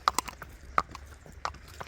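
Horse hooves clip-clop in an uneven walking rhythm while being ridden on a trail in the Sacred Valley, the sharp knocks close and clear over faint background.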